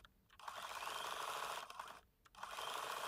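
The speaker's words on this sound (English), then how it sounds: "my machine doing the satin stitch really needs that extra support" A domestic sewing machine runs a dense satin stitch on fabric, giving two sustained, rapid, mechanical whirring runs close up, with a short pause between them.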